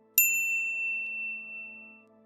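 A single bright bell ding strikes sharply, then rings out as a clean, slowly fading tone over about two seconds, alone and without speech.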